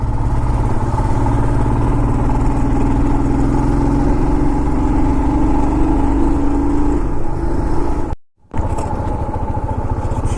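A motorcycle cruises steadily along National Highway 10 between Siliguri and Gangtok toward Sikkim, its loud continuous engine drone and wind roar filling the whole stretch, with a brief sharp dropout near the end.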